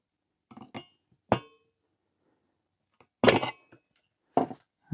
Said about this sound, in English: Now we need to just prise the sump away, remembering it had that silicon type gasket, so it's probably going to stick a bit.